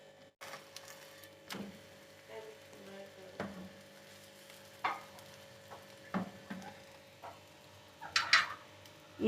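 Garlic paratha frying on a pan with a teaspoon of cooking oil: a faint, continuous sizzle with scattered ticks and soft clinks, getting busier toward the end, no speech.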